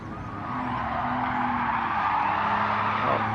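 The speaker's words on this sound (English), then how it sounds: "I was a little bit heavy on the brakes there." A race car in Gran Turismo 7 braking hard at Tsukuba, tires squealing in a sustained screech over the engine drone, loud and close with no speech.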